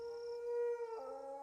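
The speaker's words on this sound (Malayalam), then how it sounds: "പട്ടി" A single dog gives one clear, tonal howl that holds steady and then drops in pitch, fairly close and alone against a quiet background.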